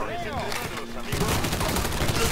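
Rapid bursts of gunfire in Mafia III erupt loudly and continue as a dense, sustained volley after a brief quieter lead-in.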